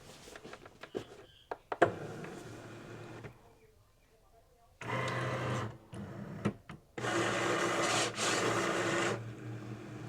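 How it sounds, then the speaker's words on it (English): A Cricut Maker 4 cutting machine works through an infusible ink sheet with a steady mechanical whir and carriage buzz in two sustained passes separated by a short quiet gap, preceded by clicks and light handling, close up. "Cutting it on the Maker 4 today."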